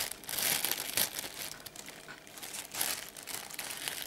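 Loud, close crinkling and rustling of a thick plastic bag, in irregular bursts of crackle with no voices.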